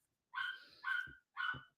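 A dog barks three times in an evenly spaced series, moderately close but fairly quiet, with no talking over it.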